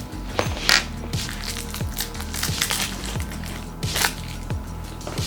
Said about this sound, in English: let's unwrap this guy